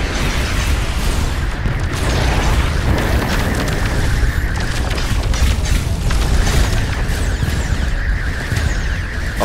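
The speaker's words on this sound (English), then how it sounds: "Beam weapons hitting the pirate ship on the starboard side of it." Sci-fi beam weapons striking a pirate ship's starboard side during a space battle in the game Starcom: Unknown Space, heard as a dense, continuous rumbling roar of booms and impacts with a sustained whine running through it.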